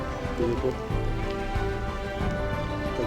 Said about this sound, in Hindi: आपको शायद बारिश की भी आवाज़ नज़र सुनाई दे रही है यहाँ पे।